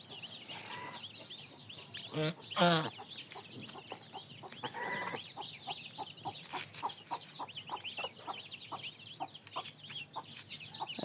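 Village chickens being fed ginger cluck in scattered, irregular bursts, with a louder squawk early on and light chirps in between, at moderate distance and fairly quiet.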